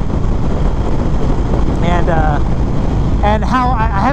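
Loud, constant wind noise buffets the microphone while riding a 2021 Indian Springfield Dark Horse motorcycle on the road, with someone talking briefly through the roar.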